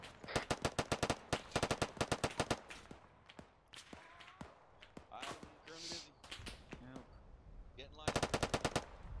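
Rapid bursts of machine gun fire from Arma 3 military combat, sharp rhythmic volleys opening the clip, scattered shots and voices in the middle, then another loud burst near the end.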